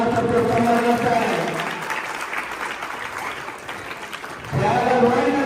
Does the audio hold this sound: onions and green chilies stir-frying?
no